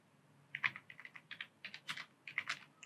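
Light, close taps on a computer keyboard while typing Python code, a quick uneven string of distinct keystrokes in small bursts against near silence, with no speech.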